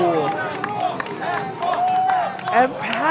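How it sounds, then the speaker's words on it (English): A crowd at a Dance Dance Revolution tournament cheers and shouts in a dense, continuous roar, with whoops and voices rising and falling throughout, loud and close. "the crowd going wild"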